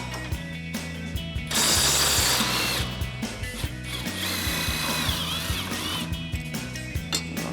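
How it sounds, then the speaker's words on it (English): Power tool, likely an impact driver or drill with a 15 mm socket, removing the bottom rear shock bolts on a Ford F-150 during an Eibach rear lift block install. It whirs in bursts with a loud sustained run near the middle, close up. "First thing we need to do is remove our bottom shock bolts so we can get these out."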